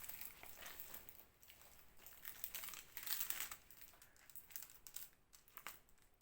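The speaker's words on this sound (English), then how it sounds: "I'm just going to sort of peel some of this plastic back" Sticky plastic film peeled back from a diamond painting product, giving a continuous close crinkling and crackling with brief louder tearing bursts, no talking.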